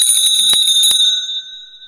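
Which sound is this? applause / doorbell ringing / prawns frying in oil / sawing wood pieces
doorbell ringing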